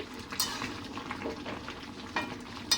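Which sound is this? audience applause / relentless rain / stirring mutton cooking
stirring mutton cooking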